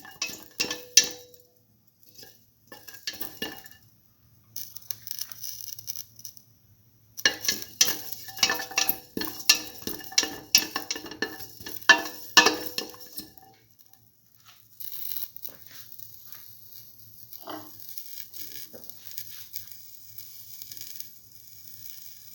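Mung bean coconut stew being sautéed and stirred in a pot, with scattered clinks and scrapes of a utensil over a soft sizzle, busier in the middle stretch and quieter toward the end.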